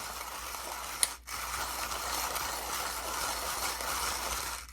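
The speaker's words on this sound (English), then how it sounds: "I typically do my hand grinding kind of that more that slow feed method" A manual coffee grinder, the Cocinare ESSENCE GO B38 Ultra, is hand-cranked slowly through beans, giving a steady dry grinding rasp with a faint mechanical clicking and one brief pause, close and fairly quiet.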